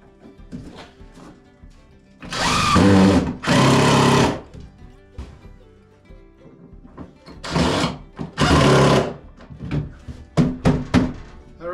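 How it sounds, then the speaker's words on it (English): Two bursts of a power drill driving screws into the back of a wooden storage rack for short cut-offs, each a loud whirring run of about a second or two, with clunks and knocks between. "I think I'll put some screws in the back here"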